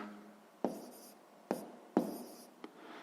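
A pen writes a math answer on paper in several short, crisp scratching strokes separated by brief pauses, close and clear.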